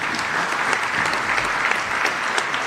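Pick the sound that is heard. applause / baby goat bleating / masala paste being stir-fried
applause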